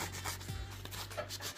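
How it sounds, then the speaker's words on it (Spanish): Sandpaper rubbed gently back and forth over a broken fishing rod to dull its glossy finish before gluing, a close, continuous scratchy rasp with soft repeated strokes and no talking. "es pasarle una lija suavecito nomás, que le quite el brillo"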